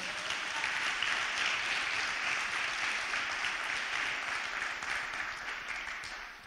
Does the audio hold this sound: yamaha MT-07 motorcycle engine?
no